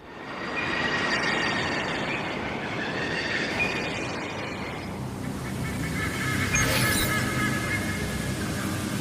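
A train rushes along in the Wuthering Waves video game: a loud, steady rumbling roar of rolling wheels lasting throughout, with high squealing, honk-like metallic tones rising over it near the end.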